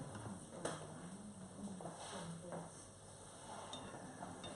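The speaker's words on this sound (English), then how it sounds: "Right, so while this is frying" Steady crackling sizzle of food deep frying in hot oil, continuous and moderately loud, with a few faint clinks of utensils.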